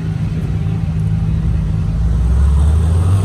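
Engine of a black Lamborghini Miura with bronze wheels, a close, loud low rumble that swells slightly toward the end, alone.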